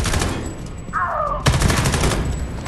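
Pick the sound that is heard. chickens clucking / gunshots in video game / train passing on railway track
gunshots in video game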